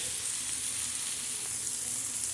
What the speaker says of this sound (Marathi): हे बघा, आपला कांदा टमाटर आणि ते परतत आहे.